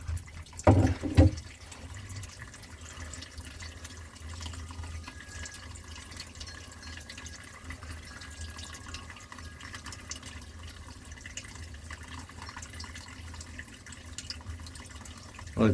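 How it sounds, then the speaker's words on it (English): Water drains from a boat hull through drilled holes, the space between hull and deck on a Majak Redfish Line boat, giving a steady, continuous running splash with a louder burst near the start. "That's a lot of water coming out of that deck."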